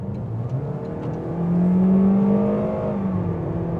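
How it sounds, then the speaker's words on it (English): A 2025 Toyota Corolla XSE hatchback with a four-cylinder engine accelerating at half throttle, heard from inside the cabin as a steady engine hum whose pitch rises and swells, then eases off. "Try it out about half throttle."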